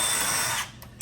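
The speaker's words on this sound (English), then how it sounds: "We're going to take our little pilot drill." A small pilot drill bores through a 1x3 wooden board while a deep litter chicken coop is built, a steady close whir for most of a second before trailing off, then a brief sharp tap.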